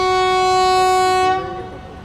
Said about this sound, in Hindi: अभी देखो लखनऊ जंक्शन पे अपनी ट्रेन पहुंचने वाली है